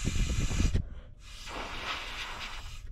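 Breath blown through a carburetor fuel pickup foot makes a close, breathy hiss that cuts off briefly, then resumes as a softer rushing of air.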